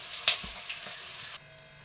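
Pieces of mackerel (ayila) fry in hot oil with a soft, steady sizzle, marked by one sharp crackle early on before the sizzle cuts off abruptly to near quiet.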